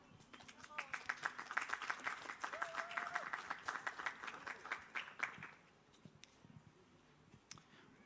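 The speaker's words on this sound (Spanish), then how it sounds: "Un aplauso, por favor." Audience applause at a book presentation during a book fair in La Serena, a dense burst of clapping that builds, holds for about five seconds, then stops abruptly, leaving quiet room tone with a few stray claps.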